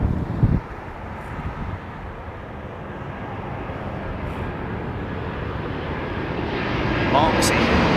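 Boeing 737 airliner at London Heathrow, a moderate continuous engine rumble with wind buffeting, swelling slightly toward the end, with brief voice bursts at the start and a short high tone late on.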